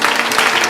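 Audience in a church clapping, a short burst of dense, steady applause from a crowd with no voices standing out.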